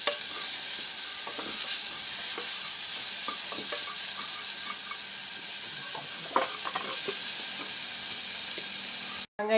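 Steady sizzling of onions and tomatoes sautéing in a hot pan, with occasional stirring scrapes and crackles; no voices.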